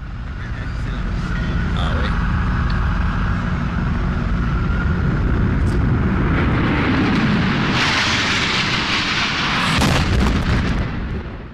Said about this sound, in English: The second plane hits the South Tower between the 78th and 82nd floors at 9:03 a.m.